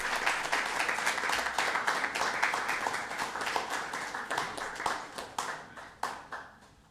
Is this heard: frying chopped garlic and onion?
no